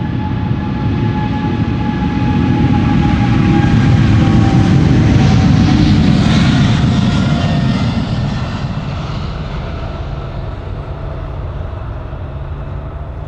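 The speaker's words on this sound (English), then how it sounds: "KLM flight 641 to New York, JFK, 777-200 the PHBQP, 17 years old" A 17-year-old KLM Boeing 777-200 departs Amsterdam Schiphol in winter, its jet engines building into a loud, broad roar that peaks as it passes, then eases into a lingering rumble with a faint whine; no voices.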